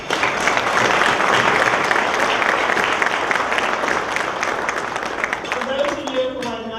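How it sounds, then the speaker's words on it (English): An audience at a community college foundation ceremony applauds, a loud, dense, sustained wash of clapping that gradually thins, with a voice beginning to speak as it fades. "Please join me in giving yourselves the applause you so richly deserve."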